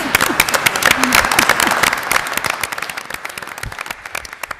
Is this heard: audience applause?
yes